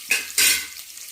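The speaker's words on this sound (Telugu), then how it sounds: "తాలింపు గింజలు వేగిన తర్వాత ఉల్లిపాయలు వేసుకుందాం. ఉల్లిపాయలు బాగా వేగాలి" Onions frying in hot oil with seasoning seeds for masala stuffed brinjal; two quick bursts of loud sizzling, as if from stirring, then a steady lighter crackle.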